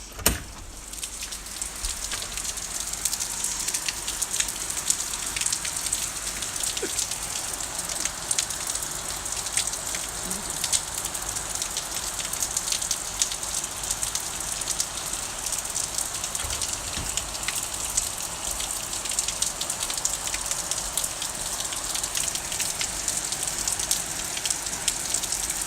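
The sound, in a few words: heavy rain falling during a rainstorm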